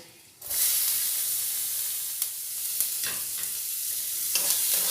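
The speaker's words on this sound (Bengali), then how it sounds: "দিয়ে পেঁয়াজগুলো একটু ভালোভাবে ভেজে নেব।" Chopped onions sizzle and hiss in hot oil with cumin seeds and a dried red chilli, a steady close frying noise with a few sharp clicks of a spoon stirring the pan.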